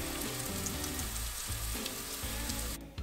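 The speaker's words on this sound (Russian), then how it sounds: "Разогреваем масло в сотейнике и выкладываем туда в один слой наши бланшированные лимоны" Blanched lemons frying in a single layer of oil in a saute pan, a quiet steady crackle and sizzle with faint background sound, cutting off near the end.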